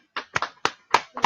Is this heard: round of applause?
yes